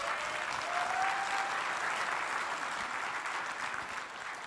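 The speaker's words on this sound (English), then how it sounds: "So let's give him a round of applause," An audience at the ShmooCon 2020 security conference applauds warmly for a speaker, a dense, steady clapping that fills the room for several seconds and slowly begins to taper off.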